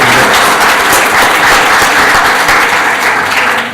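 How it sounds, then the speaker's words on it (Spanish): Loud, sustained applause from a conference audience honoring a doctor, dense steady clapping filling the room throughout without speech. "quiero que le demos un fuerte aplauso al doctor"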